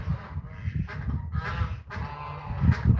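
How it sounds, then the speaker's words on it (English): Geese honk repeatedly at a house in South Dakota, the loud, overlapping calls coming in quick bursts from close by. "Yeah, I got geese living at my house. You can hear them."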